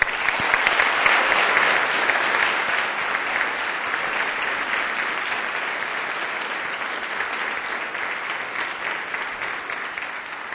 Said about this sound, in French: elles méritent une chaleureuse main d'applaudissements